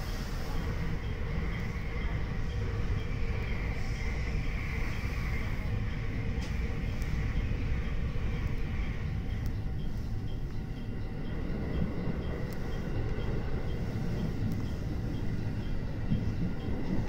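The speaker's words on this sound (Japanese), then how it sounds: "ただいまこの電車は信号に従い速度を落として運転を行っております" A Kosei Line train runs slowly in heavy snow between Yamashina and Kyoto, a continuous low rumble of wheels and car body heard from inside, with occasional faint clicks and rattles.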